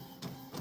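An Epson 7720 sublimation printer runs a print job, its print head giving two short mechanical swishes a fraction of a second apart, close and moderately loud.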